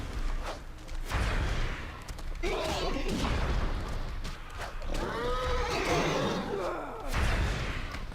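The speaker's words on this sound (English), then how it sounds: "Oh, they're attacking the horse." In World of Warcraft, a horse under attack gives loud whinnies and neighs over a busy battle soundscape of clashing hits and hoofbeats.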